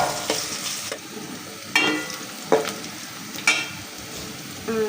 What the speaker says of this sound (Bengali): এখানে পেঁয়াজ আর হচ্ছে গোটা গরম মশলা ভেজে নিতেছি।